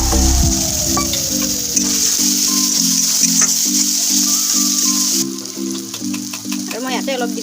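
A spice paste sizzles loudly in a pan with fried onion, crushed ginger and garlic, a steady crackling fry that runs throughout, joined by occasional stirring scrapes and a voice speaking over it.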